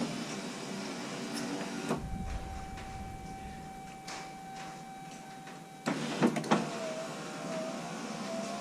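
A Chevrolet Silverado power window, freshly greased, runs up and down with a steady motor whine, stopping and restarting with clunks at the ends of travel, heard close with no talking.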